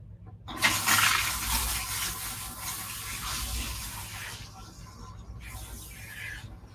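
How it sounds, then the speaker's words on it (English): Running water rinsing shampoo out of a client's hair at a salon sink, a steady close hiss and splash that continues for several seconds before easing off, with no talk over it. "I'm going to go ahead and rinse her out."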